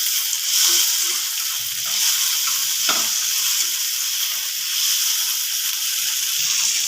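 Onions and chopped tomato fry in a pan as the base for a spicy crab curry, making a loud, continuous close-up sizzle with occasional soft stirring.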